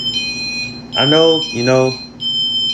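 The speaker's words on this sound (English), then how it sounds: "excuse that background beeping noise" An electronic alarm beeps in steady, high-pitched repeated tones, continuing underneath someone speaking briefly in the foreground.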